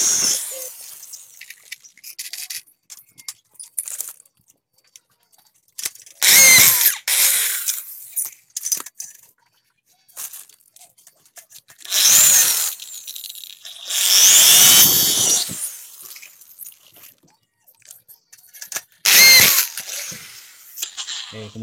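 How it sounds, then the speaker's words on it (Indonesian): Power drill boring into wood while building a minimalist one-metre plant shelf, several loud whining bursts of a few seconds each, separated by quiet pauses and small handling clicks, close to the listener. "Dan kita bor."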